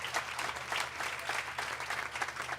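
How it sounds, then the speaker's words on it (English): A crowd at an evening cultural program of a large religious gathering gives itself a round of applause, a soft, distant patter of clapping that carries on evenly over a low background hum. "Give yourselves a round of applause"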